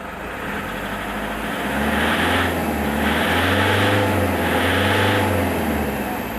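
A Toyota Innova engine idles, then revs up in three successive throttle presses that swell and ease back, loud and close.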